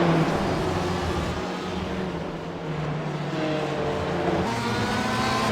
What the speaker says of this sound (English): Conor Murphy's getting the slipstream off of the Porsche in front of him